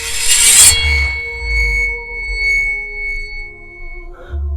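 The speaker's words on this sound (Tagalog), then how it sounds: "At nang hugutin niya ang talim mula sa kaluban nito," A katana blade drawn from its scabbard gives a bright, close metallic scrape followed by a long, fading ringing tone that hangs for several seconds.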